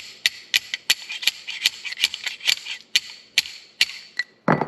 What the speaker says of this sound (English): we're simply going to use the barrel as a slide hammer to get the bushing out